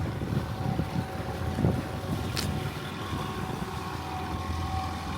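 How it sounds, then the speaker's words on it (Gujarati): A motorboat engine hums steadily as it passes, mixed with wind buffeting the microphone; no one speaks. "આ એક બોટ આવી."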